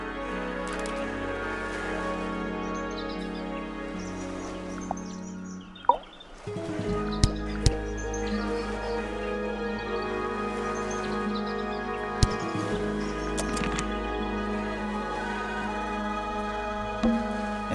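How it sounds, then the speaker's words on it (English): Chirpy birdsong at a bird bath in the game Tangle Tower, mixed into a steady, layered musical background with a few sharp accents, continuous and moderately loud throughout. "The birds seem to like it. They're even singing a little tune."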